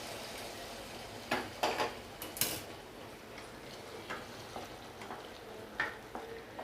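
Cashews fry in ghee in a pan, a faint, soft sizzle under scattered light clicks and taps of a utensil against the pan.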